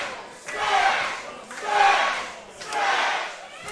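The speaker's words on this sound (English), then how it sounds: "You hear the crowd getting behind Wrecking Ball." Wrestling arena crowd cheering for a wrestler, three loud rhythmic swells of massed voices chanting in unison, each rising and falling about once per second.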